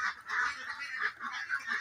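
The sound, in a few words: ducks calling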